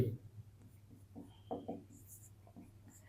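Pen strokes writing out a math solution on paper, soft close scratches in short bursts at a quiet level, with a faint steady hum and a few spoken words underneath.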